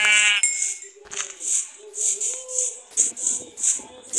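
A sheep in Minecraft gives a short bleat, followed by a rapid series of bright, plinking chime-like blips that repeat at an uneven rhythm.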